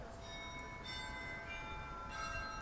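Church bells ring at a monastery, sustained metallic tones with overlapping strikes hanging in the air, moderately distant and steady throughout, with no talking.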